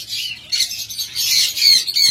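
Caged pet cockatiels and lovebirds squawk in harsh, shrill bursts, several overlapping calls rising and falling in quick succession, fairly close and loud with no talking.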